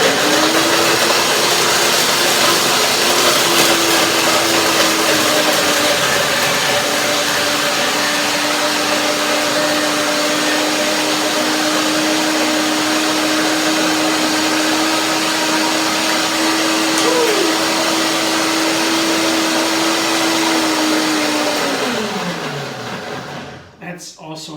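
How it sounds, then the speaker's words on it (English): A kitchen blender whirs steadily, blending peaches with cashew nuts, loud and close for over twenty seconds with a high motor whine. The whine drops in pitch and winds down at the end. "2 of the peaches into the blender, and I blend them with the coconut or with the cashew nuts"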